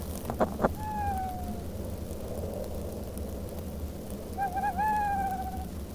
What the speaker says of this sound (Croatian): Čim se čuju sove.